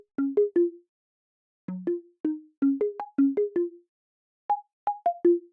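A dry plucky hyperpop synth with no effects plays short, clipped notes in quick clusters separated by brief silences; each pluck stops abruptly with no tail, bright and close.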